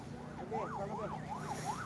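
Ambulance siren wailing in a rising and falling pattern, moderately distant amid night street traffic noise at a crowded religious gathering in Solo, repeating several cycles with faint background chatter.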